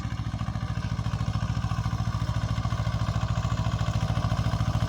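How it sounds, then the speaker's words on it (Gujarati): A close, loud tractor engine chugs in a steady rapid rhythm throughout on a papaya farm, with no clear change in distance. "હવે ટ્રેક્ટર આવી રહ્યું છે મિત્રો"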